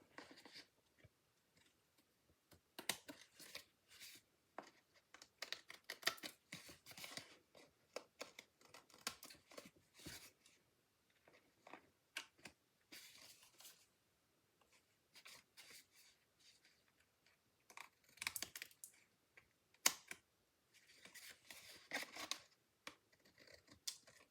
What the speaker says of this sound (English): I'm going to flip this over and just trim these off with my snips.